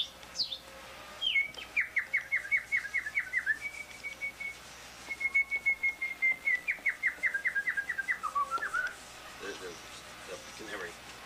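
A person whistling an imitation of a canary's song: long runs of rapid, trilling chirps and warbles in a few sustained phrases, fairly close and clear, with faint background noise.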